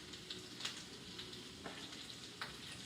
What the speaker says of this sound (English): we're going to brown this chicken